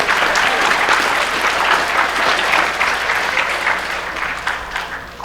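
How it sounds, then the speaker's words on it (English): Convention audience at BronyCon breaks into loud, sustained applause, dense clapping from a large crowd filling the room and tapering slightly toward the end, with faint voices mixed in. "I just have to give you an applause for that"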